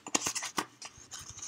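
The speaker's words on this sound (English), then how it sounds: "So we're just kind of making this little piece of shimmery white cardstock look a little tattery." A distressing tool scrapes along the edges of shimmery white cardstock in short, rasping strokes, several quick scratches in the first half followed by lighter, softer scraping, close and fairly quiet.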